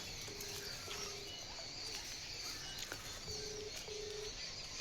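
A telephone's keypad sounds four short, evenly pitched dial tones in two pairs against a steady noisy background, with faint bird calls around.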